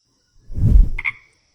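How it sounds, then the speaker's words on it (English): A poison dart frog, a tiny Central and South American species, calls once: a short, fairly close burst with a low throaty rumble and a brief buzzy trill near its end, over quiet background. "Poison dart frogs are a tiny species of frog that lives in Central and South America."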